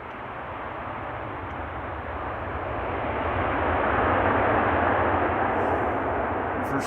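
An Aer Lingus jet arriving from Dublin at Amsterdam Schiphol Airport lands with its engines in reverse thrust, giving a broad, steady roar that builds gradually and holds loud throughout.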